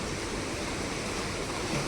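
A swollen monsoon river rushes past at full pressure where traditional fishing is under way, giving a continuous, even hiss and roar of moving water with no voices.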